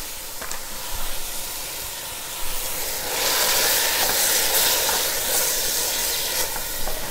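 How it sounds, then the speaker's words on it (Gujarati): Beef stir-frying in olive oil gives a loud, steady hiss that swells partway through, with a few faint clinks and no voices. "આ ગોશ આપણે ફાઇન રીતે એને સ્ટર ફ્રાય કરશું।"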